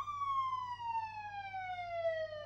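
A police patrol car siren on a sheriff's Ford F-150 sounds its wind-down tone, a loud steady electronic pitch sliding slowly lower, alone and close, with a low engine hum beneath.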